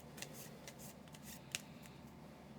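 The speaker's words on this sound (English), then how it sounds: "We'll give this a shuffle, although I already did shuffle." A deck of board game cards is shuffled in a few quick, papery riffling bursts, faint and close by, with no talk.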